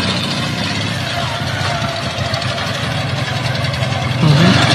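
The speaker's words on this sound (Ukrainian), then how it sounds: "На мотоциклі." A military motorcycle fitted with a welded-on anti-drone cage runs with a steady, close, loud engine drone that grows slightly louder near the end.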